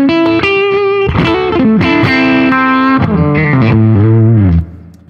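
A custom Telecaster-style electric guitar played through effects and amps, loud distorted sustained notes and bends in a melodic phrase, ending with a sliding note that drops away.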